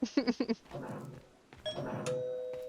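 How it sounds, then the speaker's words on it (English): A doorbell sound effect plays in a Rust game: a short burst of bright chiming tones opens, followed by a held, ringing electronic tone, all moderately loud with no talk. "And then the amazing doorbell thing."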